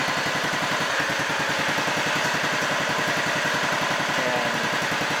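A 1959 Sears David Bradley garden tractor engine idles steadily, a close, even, rapid chugging pulse with mechanical clatter that holds constant throughout, with no talk.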